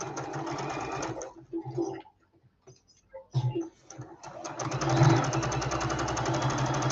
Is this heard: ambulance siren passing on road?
no